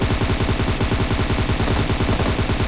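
Continuous rapid gunfire in the mobile battle royale game PUBG Mobile, dense and loud with shots overlapping throughout and no voices.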